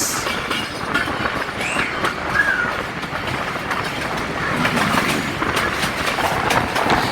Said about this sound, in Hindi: कोई ट्रेन आ रही है प्रोबेबली।